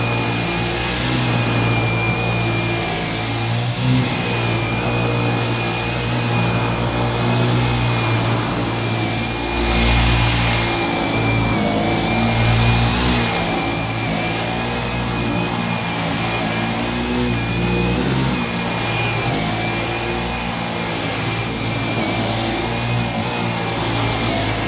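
Dyson Gen5 cordless vacuum cleaner running steadily on eco at its minimum setting, a continuous close whirring motor hum with a thin high whine and slight surges in level.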